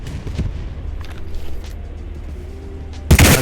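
A tank gun fires in multicrew video game combat: a single heavy, close boom near the end, after a stretch of low rumbling engine noise and scattered faint thuds.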